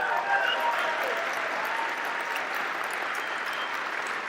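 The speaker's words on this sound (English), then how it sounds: "Everybody give him another round of applause." Steady applause from an audience fills the whole stretch, dense clapping that holds at an even level and fades slightly toward the end.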